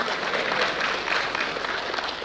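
A church congregation bursts into brief, steady applause during a sermon, a dense wash of clapping hands filling the room.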